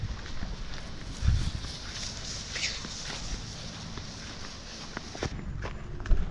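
Footsteps crunch steadily outdoors as people walk across a farmyard toward a chicken coop, carrying food for the chickens. The uneven, moderately close steps run throughout over light background noise.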